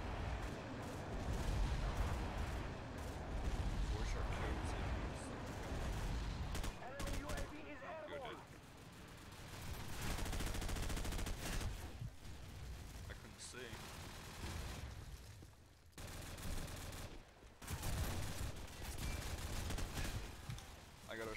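Rapid assault rifle bursts in Call of Duty 4 multiplayer, dense and loud through most of the stretch with brief lulls, some explosion-like booms, and a voice talking at times.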